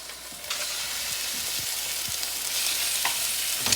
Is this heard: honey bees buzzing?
no